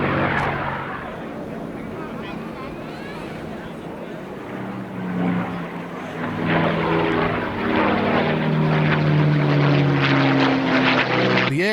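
A P-51 Mustang propeller fighter flies at the Sola Airshow in Norway, its droning piston engine steady and then swelling louder and nearer, with strong tonal engine harmonics.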